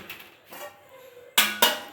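A metal bowl set on top of a cooking pot during home-style Mandi biryani preparation, soft scrapes followed by two sharp clanks of metal on metal near the end.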